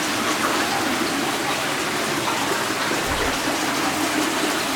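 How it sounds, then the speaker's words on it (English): Waterfall deep inside a pitch-black underground cave, a steady dense roar of falling, splashing water that fills the space evenly throughout, with no voices over it. "Waterfall down here."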